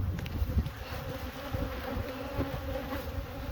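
Honeybees buzz steadily and densely around open beehives, a close, continuous drone that stays at an even level throughout with no talking.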